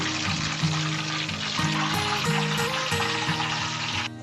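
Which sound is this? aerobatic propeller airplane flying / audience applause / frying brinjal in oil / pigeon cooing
frying brinjal in oil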